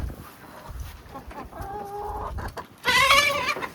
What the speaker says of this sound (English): let me show you the chickens right here